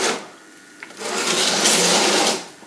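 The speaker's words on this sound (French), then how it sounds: "Allez, on va essayer d'allumer ce poêle à pétrole." A kerosene stove is lit, a small click followed by a rising whooshing, whirring rush of noise that holds for about a second and a half, then fades away.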